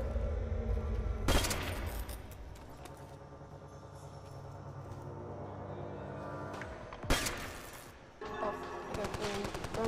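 Gunfire in Call of Duty: World at War zombies on the Nacht der Untoten map: two loud bursts of rapid shots separated by quieter game ambience, with low rumbling between them.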